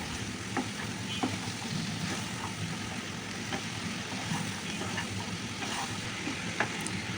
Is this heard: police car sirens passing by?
no